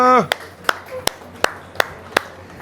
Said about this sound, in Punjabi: ਸਾਰੇ ਜਣੇ ਤਾੜੀਆਂ ਮਾਰ ਦਿਓ ਜੀ ਤਾੜੀਆਂ ਸੋਢੀ ਸਾਹਿਬ ਲਈ ਤਾੜੀਆਂ